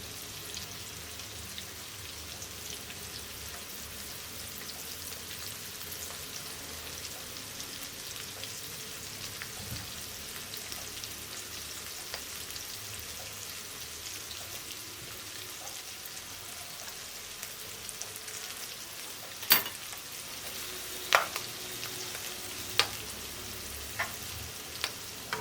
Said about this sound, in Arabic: نفرد بقى ونسيبه يتحمر براحته